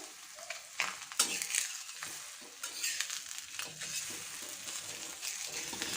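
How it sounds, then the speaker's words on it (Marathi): A sweet potato thalipeeth flatbread fries in oil on a pan, giving a soft, steady sizzle. Faint scraping and stirring clicks come and go over the top, fairly quiet and close. "साईडने थोडं तेल लावून घेऊया आणि छान असा खरपूस दोन्ही साईडनी भाजून घ्यायचा आहे"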